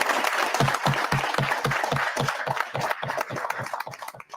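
A small group of people clap and applaud steadily, with rhythmic, close hand claps that hold a fairly even beat throughout, and little talk underneath.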